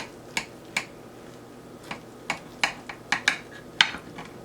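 Knife cutting slices from a turkey meat loaf stuffed with spinach and feta, heard as a series of sharp, brief clicks and taps against the board, irregularly spaced and fairly close.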